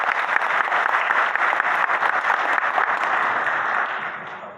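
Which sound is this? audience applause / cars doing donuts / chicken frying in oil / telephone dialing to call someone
audience applause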